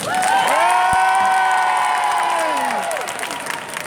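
Audience at a flower show design contest applauds and cheers for a competing floral designer, a dense sustained burst of clapping with a loud shout over it at the start, tapering off near the end.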